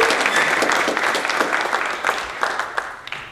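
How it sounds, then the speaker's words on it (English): Applause for Kunal Jain, who organized an event on networking and connections, fills the room as a dense, steady wash of many hands clapping, holding loud throughout and thinning only slightly toward the end. "can we give Kunal Jain a round of applause for putting this together?"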